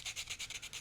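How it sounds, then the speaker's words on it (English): Quick back-and-forth strokes sanding a wooden crescent pen holder, about seven rhythmic rasping passes in under a second, close and faint. "just give that a little sand"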